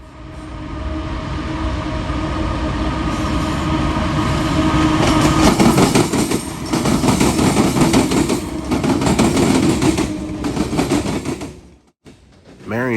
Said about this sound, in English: C700 coming west on the former Erie track.